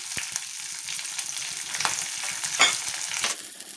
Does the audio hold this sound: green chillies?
yes